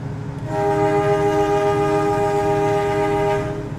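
Horn of the KA Mutiara Timur panoramic passenger train sounds one long, steady chord as the train departs, loud and sustained for about three seconds before cutting off, with rumbling rail noise underneath.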